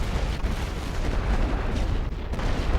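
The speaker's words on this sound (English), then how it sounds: "Go ahead and send some artillery their way, suppress them so they can't fire" Dense, rumbling artillery barrages roll on without a break in a WW1 Western Front strategy game. The booms blur into a loud, low continuous roar with no voices.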